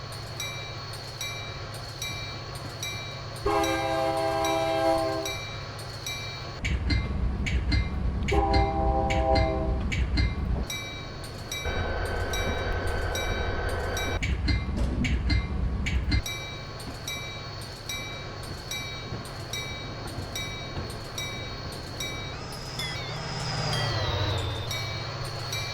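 A passing train in Train Simulator 2016, on the Chicago-Aurora Chicago Express route into downtown Chicago, rumbles steadily while its horn sounds three loud sustained blasts, followed by a rising tonal squeal near the end.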